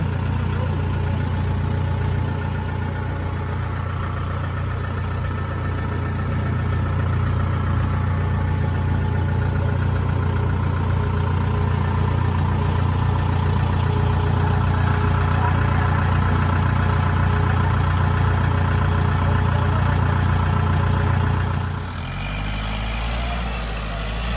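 A Kubota L5018SP tractor engine idles near a rice paddy with a steady, loud, low rumble that holds for over twenty seconds, then shifts abruptly to a lower, quieter tone near the end.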